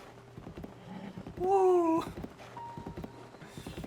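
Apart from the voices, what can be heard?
horse hooves clopping in video game Breath of the Wild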